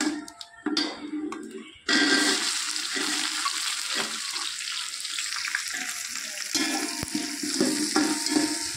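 Onions tipped into hot oil already fragrant with cinnamon, cloves, stone flower, fennel and cardamom for chicken biryani, bursting into a loud, steady sizzle after a brief quieter moment with a few clatters, then frying continuously up close.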